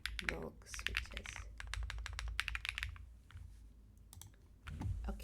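Typing clatters on a GDK Labs NV-70 keyboard fitted with Keyboom Taro Cream Milk switches, in quick bursts of soft clicks with short pauses between them. The sound is faint and close, and a voice talks over parts of it.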